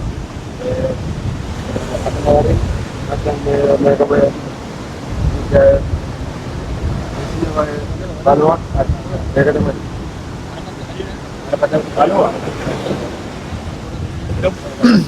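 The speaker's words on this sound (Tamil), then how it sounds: "எப்படி அடிக்குது பாருங்க அந்த கடல்ல இருந்து" Strong sea wind buffets the microphone with steady roaring noise on a shoreline in Jaffna, with the wash of waves blended in, while people talk loudly over it throughout.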